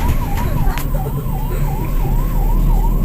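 An ambulance siren wails loud and close in a continuous rising-and-falling sweep, with road and traffic rumble underneath and no voices.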